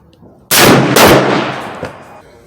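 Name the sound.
Henry 45-70 lever-action rifle gunshot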